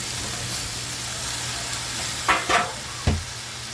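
A chayote dish stirs in a hot pan with a steady low sizzle, and a few short scraping strokes of the spoon stand out near the end.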